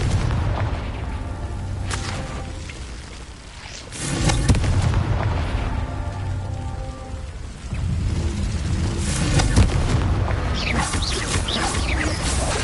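Confringo spell blasts in Hogwarts Legacy, loud booming explosions with crackling debris, a big burst near four seconds and another near eight amid continuous rumbling combat noise.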